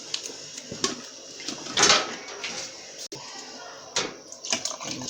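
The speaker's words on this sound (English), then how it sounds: "I need to add a little bit more water." Water is poured into a cooking pot for a chicken pepper soup, a few splashing pours with brief bursts and gaps, mixed with small kitchen knocks nearby.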